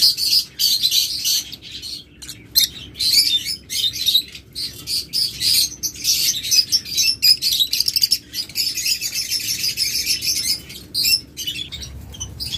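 Several pairs of pet birds for sale chirp and squawk near the listener, bright rapid bursts coming in uneven clusters with short gaps, sometimes overlapping.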